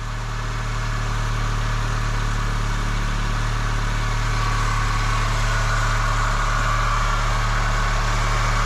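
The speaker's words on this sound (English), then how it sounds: "I just started the car" A car engine idles steadily right after being revived with an AUTOONE M4 jump starter, a continuous low rumble close by with no talk over it.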